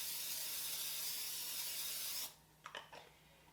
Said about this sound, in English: Give it a good spray with some olive oil spray.